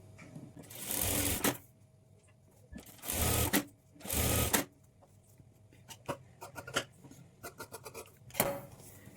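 A sewing machine stitches blouse sleeve pieces together in three loud, steady bursts of whirring, followed by lighter ticks and fabric handling, with one short final burst near the end and no speech.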